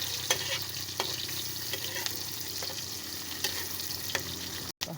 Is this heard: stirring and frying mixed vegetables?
yes